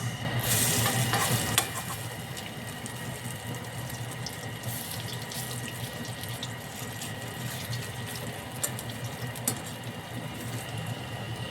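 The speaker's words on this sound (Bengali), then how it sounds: "এই চিংড়ি যত ছোট ছোট করে ছাড়বেন তত ভাল লাগবে মচমচে হবে" Small pieces of shrimp fritter frying in oil, a steady dense bubbling crackle that runs throughout, louder for the first two seconds with a few sharp pops later, no talking.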